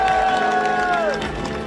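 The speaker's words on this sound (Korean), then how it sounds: "짧고 굵게 그냥 딱 자기 할 얘기만 하고 내려가는 우리 송윤봉 회장님께 뜨거운 박수 부탁드립니다." A crowd at a protest rally in Mokpo against contaminated water gives a short burst of clapping and cheering, with a raised voice carrying over the noise.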